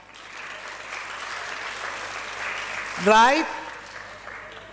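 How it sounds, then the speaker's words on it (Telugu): An audience claps steadily through a valedictory function hall, a broad, even wash of hands that swells slightly before a voice briefly cuts in near the end. "క్లాప్స్ యార్."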